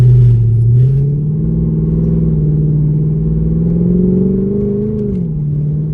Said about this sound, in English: we'll give it some beans, give it some gas, just lay a little throttle